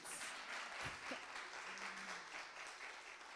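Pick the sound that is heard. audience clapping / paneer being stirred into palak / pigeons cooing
audience clapping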